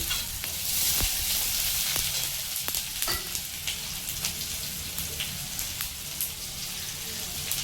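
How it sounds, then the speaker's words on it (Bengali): Tomato with salt and turmeric frying in a pan for a Bengali banana kofta, a steady hissing sizzle with scattered pops and occasional stirring clicks, close and continuous with no talking. "একটু নুন, একটু হলুদ, ভালো করে এটাকে ভেজে"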